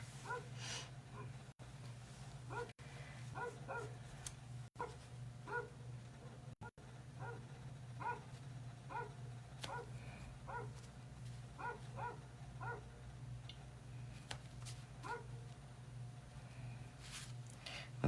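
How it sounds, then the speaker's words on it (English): A small dog gives a steady run of yips and barks, repeating every second or so over a constant low hum indoors, moderately near and with no speech over it. "But now he's gonna bark."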